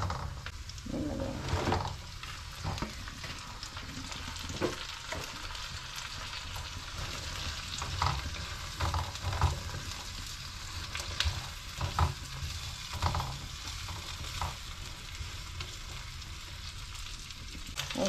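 Beans for kare kare frying in a pan, a steady close sizzle with scraping stirs of a spoon at irregular intervals throughout.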